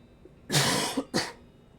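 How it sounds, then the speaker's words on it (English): A person gives two harsh coughs close to the mic, the first longer and the second a short follow-up, over a quiet game background. "With that cough."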